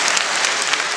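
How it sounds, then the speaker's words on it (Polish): An audience at a cabaret show claps in a dense, steady burst of applause, brief and fairly loud. "Wielkie brawa."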